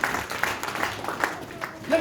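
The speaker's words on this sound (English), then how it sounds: "Clap your hands in Jesus' name." Congregation at a church service clapping hands in a brief burst of rhythmic, moderately close claps, with a voice speaking over them.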